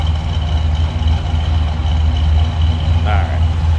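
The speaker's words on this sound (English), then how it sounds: "A little rumble coming out of that dual exhaust." Small block V8 of a 1966 Chevrolet Impala SS hardtop idling through dual exhaust, a loud, steady low rumble heard close from behind the car, with a faint voice briefly near the end.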